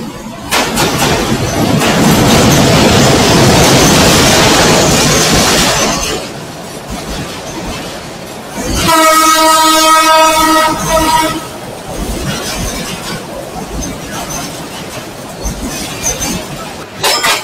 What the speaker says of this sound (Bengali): মালবাহী একটি ট্রেন আসছে।